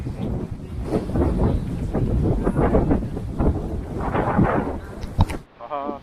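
Strong wind buffets the microphone beside a large reservoir lake in Savannakhet, Laos, a loud, continuous low roar with gusty swells that cuts off abruptly near the end.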